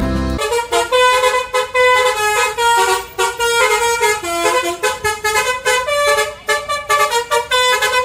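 Telolet musical horn of the Alfayed Angel Heart bus, loud close melodic toots repeating in rapid rhythmic bursts throughout, alone without talk.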